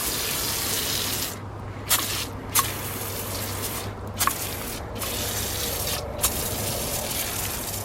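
A small foam sprayer applies all-purpose cleaner across a car's engine compartment, a steady broadband hiss running almost the whole time, broken by short pauses and a few light clicks from the trigger or nozzle.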